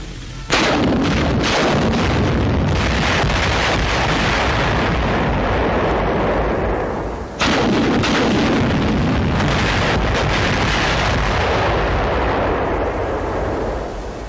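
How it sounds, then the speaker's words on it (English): Ten rockets from a Sherman rocket tank fire at a pillbox in a rapid salvo, a dense string of sharp blasts and booms, then a second heavy burst of explosions, all loud and alone. "10 rockets are fired at the pillbox."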